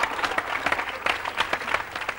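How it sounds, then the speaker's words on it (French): Studio audience applause on a French television show, a lively crowd clapping in a continuous, moderately loud burst with no voices. "On peut applaudir Félix et puis on peut surtout applaudir la personne qui est derrière Félix"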